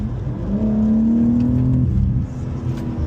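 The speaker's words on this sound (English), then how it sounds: "But the car does take off, like, look." A BMW M4 Competition accelerates hard, its engine note rising steadily in a clear climbing pitch before easing off near the end, loud and close with no talk over it.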